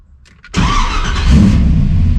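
LSX V8-swapped Infiniti G35 roaring to life, a loud close engine burst that jumps up abruptly and holds a deep, steady rumble.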